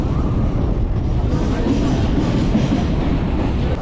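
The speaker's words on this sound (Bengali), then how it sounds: "ওই যে 4 নম্বর থেকে যাচ্ছে লালগোলা কলকাতা হাজারদুয়ারি এক্সপ্রেস।" The Lalgola–Kolkata Hazarduari Express moving past at a station platform, heard as a steady, loud, continuous rumble of rolling rail cars throughout, with no break or voice in the clip.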